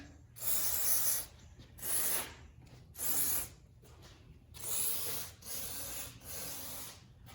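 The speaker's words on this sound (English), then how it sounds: "I'm gonna hose that down real well" A garden hose sprays water in repeated broad bursts onto farm machinery, soaking belts, springs and geared shafts; about five loud, hissing blasts of a second or so each, with brief quieter gaps between them.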